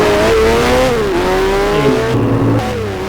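Henri Pescarolo's Matra Formula 1 race car engine, heard from outside, screams loudly as it accelerates, its pitch climbing and dipping through quick gear changes with no talk.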